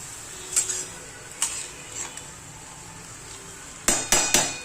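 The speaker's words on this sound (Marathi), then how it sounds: "आणि आता आहे ना ही चांगली अशी हलवून घ्यायची." Stirring a vegetable dish in a pan, a few scattered light scrapes and then three sharp, close spoon knocks against the pan at the end.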